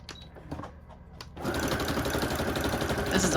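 A sewing machine running a zigzag stitch starts up after a few light clicks and then runs steadily, close and moderately loud, with a continuous rapid mechanical whir.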